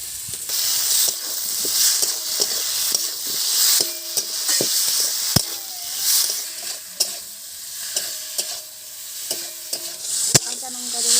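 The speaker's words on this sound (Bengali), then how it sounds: "এবার আলুগুলো ছেড়ে দেবো।" Potatoes hit hot oil in a village tribal kitchen, where tomato and spices have been cooked down for a fish curry. A steady loud sizzle runs throughout, with repeated clinks and scrapes of stirring and no talk.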